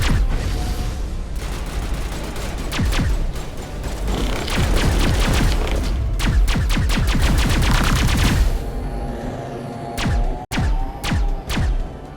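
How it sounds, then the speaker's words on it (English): Sustained suppressing gunfire in Mass Effect, rapid loud automatic bursts rattling for about eight seconds, followed by a few separate heavy shots after a brief lull. "Suppressing fire"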